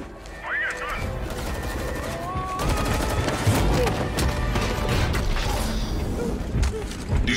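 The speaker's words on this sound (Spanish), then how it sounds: "Disparos intentan detenerme." Gunfire in Fortnite Chapter 2 Season 8's final live event, a dense stream of shots and mechanical clatter running throughout, with a voice talking over the action.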